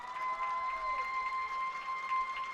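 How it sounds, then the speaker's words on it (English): Spectators get rowdy in the closing seconds of a Sidney at St. Marys high school football game, a moderate wash of cheering and applause with a steady, sustained tone running over the crowd noise. "Sidney crowd getting rowdy with 16 seconds to go."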